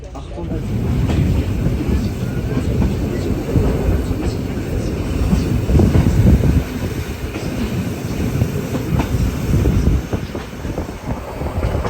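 A Flåm Railway train in Norway rolls steadily along the rails, a continuous close rumble with faint rattling and clacking throughout.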